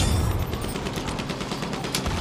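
Gunfire from the video game Battlefield 1, a rapid, dense burst of shots and cracks in a continuous fusillade, loud and busy throughout with no voice.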